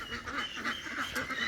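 Domestic laying ducks quack in a steady run of nasal calls, several birds close by and fairly loud, with no talking.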